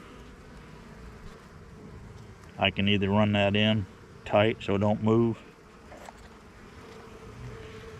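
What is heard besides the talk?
honey bees buzzing around a hive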